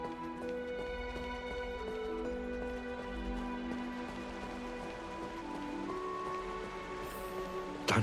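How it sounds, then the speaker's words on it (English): Steady rain in the Honkai Star Rail game hisses softly beneath a sustained musical score, a constant wash throughout, with a louder sound breaking in at the very end. "Horrible time for rain"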